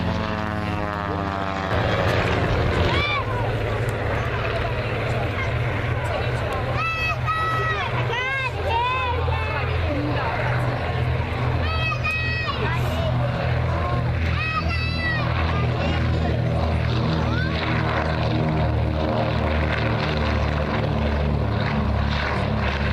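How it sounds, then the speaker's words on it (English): A Pitts S-1D Special aerobatic propeller biplane performing at the Duxford air show, its engine droning steadily with rising and falling pitch as it manoeuvres, while a commentator talks over it. "S1D Special, one of the greatest aerobatic aircraft of all time."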